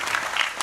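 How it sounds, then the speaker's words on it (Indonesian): Audience applause honouring the Indonesian military, a brief burst of dense crowd clapping, loud and close, lasting well under a second. "Tepuk tangan untuk TNI."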